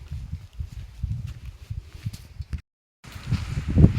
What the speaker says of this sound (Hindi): दोस्तों बस हवाई हवा चल रही है, बारिश तो हो नहीं रही है।